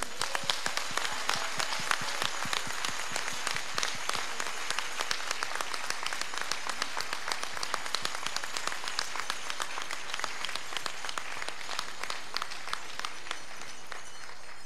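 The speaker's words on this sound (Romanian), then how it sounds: "Aplauze, vă rog!" Dense, sustained applause from an audience at a Romanian cultural event in Vienna, many hands clapping steadily and evenly for the whole stretch without a break.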